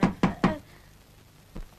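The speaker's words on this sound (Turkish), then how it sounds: "Kapı vuruldu değil mi?" Three quick, firm knocks on a door in an even rhythm, then a pause and one softer knock, heard close in a quiet room with no talking.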